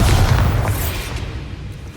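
A Bombarda spell blast in Hogwarts Legacy, a loud low boom that hits at once and then rumbles and fades over about two seconds.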